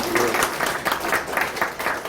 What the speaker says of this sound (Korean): 우리 같이 박수 한번